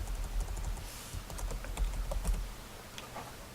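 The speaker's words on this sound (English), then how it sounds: "then type in like tabletop movie" Typing on a computer keyboard: quiet, irregular clicks of keys pressed in quick bursts over a low background hum, with no voices.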